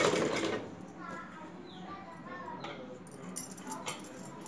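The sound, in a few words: sewing machine stitching thread piping on a blouse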